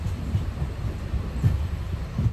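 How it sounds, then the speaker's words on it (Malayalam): Intercity Express train pulling into platform 2 at Ernakulam Junction, a steady low rumble of rolling wheels with soft rhythmic thumps, close and continuous, with no voices. "2-ാം നമ്പർ പ്ലാറ്റ്ഫോമിലേക്കാണ് ട്രെയിൻ ഇതാ എത്തിയത്."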